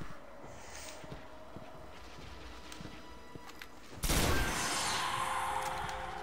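A pulse rifle in Destiny fires faint clipped bursts at a quiet distance, then a loud sustained blast of noise erupts abruptly and rings on for the remaining couple of seconds.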